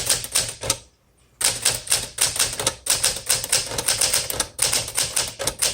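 Rapid keystrokes on a 1963 Smith Corona Sterling 5AX typewriter clacking in bursts, with a rough grinding edge to the strikes and a brief pause near the start.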